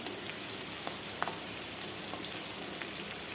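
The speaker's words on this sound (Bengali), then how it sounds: "তারপর ওই তেলেই দিয়ে দিলাম রসুন, পেঁয়াজ, কাঁচা লঙ্কা দিয়ে ভালোভাবে লঙ্কা পেঁয়াজ ভালোভাবে ভেজে নেব" Garlic, onion and green chili fry in hot oil for a fish-free home curry, giving a steady, fairly soft sizzle with a few sharp crackles and pops scattered through it.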